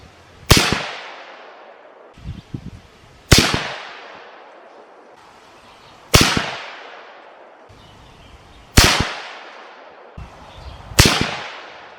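A .22-250 rifle firing Federal 55 grain ammunition: five loud, sharp reports at roughly even intervals, each ringing off briefly, with quieter mechanical clatter between shots.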